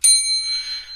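A single bright bell strike rings out close and loud, a sharp metallic ding with a shimmering tone that fades over about a second, heard alone.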